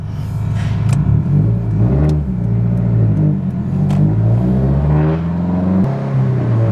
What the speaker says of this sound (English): Let's go drive around a little bit.